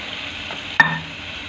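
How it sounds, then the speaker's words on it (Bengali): Water poured into a pan of frying fish sets off a sudden sharp hiss and splash, then a short burst of sizzling and stirring over a steady background fry. "এবার আমি জল দিয়ে দেবো।"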